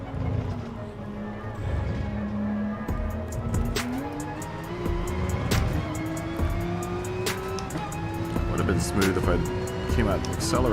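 A race car in GT Sport roars through practice laps at Red Bull Ring, its engine note climbing steadily as it accelerates, with occasional tire noise, all under continuous commentary from a player talking over it.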